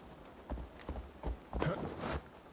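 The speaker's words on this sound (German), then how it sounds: "Die armen Pferde." Horses trotting in Assassin's Creed Valhalla, a steady run of close hoof clip-clops in an uneven rhythm over a low background ambience.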